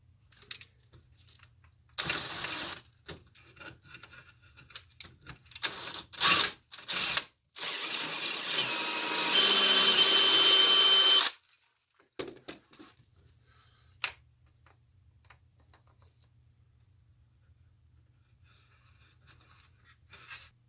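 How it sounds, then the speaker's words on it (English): A drill bores out old material from a joint in a wobbly wooden draw-leaf table, loud and steady for about four seconds, with scattered mechanical clicks and handling noises before it and quiet afterward. "Now what I'll do is I'll drill out the rest of this stuff here"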